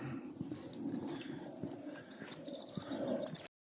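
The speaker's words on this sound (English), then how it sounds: "plenty of bird song" Birds calling and cooing, pigeon- or dove-like, along a coastal fort moat and seawall outdoors, a steady mix of soft coos and brief chirps at moderate distance for over three seconds, then sudden silence.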